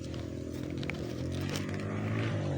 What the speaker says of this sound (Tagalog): rinig namin yung mga motor na dumaan